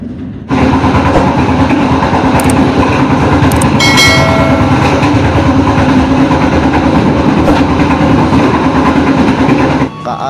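KA Jaka Tingkir train running straight through Bekasi station at night without stopping, a loud steady rumble with wheel clatter and a brief high squeal midway, sustained for about nine seconds before cutting off.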